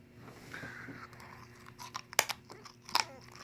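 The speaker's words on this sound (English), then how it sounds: "People fucking seem to love watching me eat gum, and this time I got two." Old 1987 trading card gum being chewed up close, with a few sharp crunches and bites over quiet, mostly soft mouth sounds.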